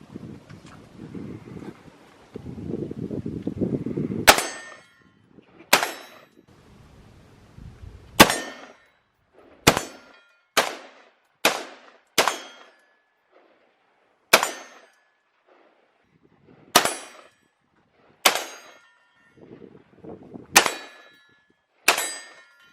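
Bullets striking a steel target at an outdoor shooting range ring out as sharp metallic clangs, about a dozen spaced irregular hits with brief ringing tails, following a stretch of wind rumble at the start.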